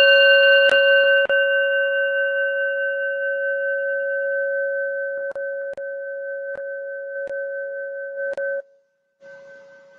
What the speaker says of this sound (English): see how long you can hear this bowl chime for.